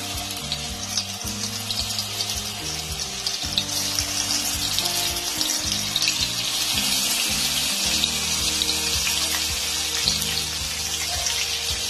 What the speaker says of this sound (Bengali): তেলটাও গরম হয়ে গেছে, একটা একটা করে মাছগুলো দিয়ে দেব তেলের মধ্যে।